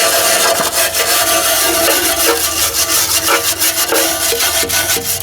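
A brush scrubbing dirt off John Deere tractor parts, a loud, close, continuous rasping scour in quick back-and-forth strokes, with no talking.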